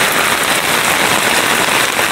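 Rain pouring down in a garden, a loud, dense, steady hiss of drops striking surfaces close by, with no voices.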